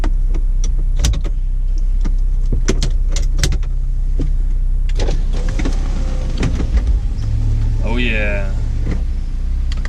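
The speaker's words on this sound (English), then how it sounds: "I'm gonna put the top down" A car's power convertible top lowers with a steady electric motor whine under continuous low road rumble, punctuated by a few clicks and knocks, with a brief rising mechanical tone near the end.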